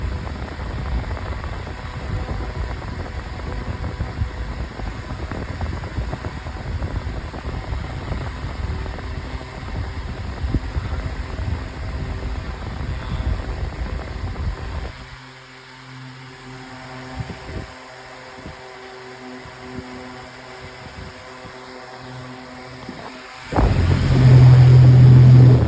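A 9-inch Airtek high velocity fan running on high, a loud steady whooshing roar up close that drops lower partway through, then a louder hum near the end, with no talk.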